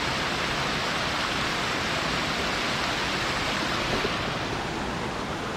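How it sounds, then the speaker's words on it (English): Waterfall at Horton Creek, Arizona, a steady broadband rush of falling water heard close, unbroken and even, with no voices. "This waterfall made it worth the hike."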